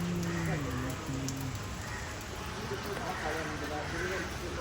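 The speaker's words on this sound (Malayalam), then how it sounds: "ഹെവി മഴ" Heavy rain pours steadily on the way to Kodukuthimala, a dense continuous hiss of drops on surfaces, loud and unbroken throughout, with a few faint tonal sounds drifting in at the start.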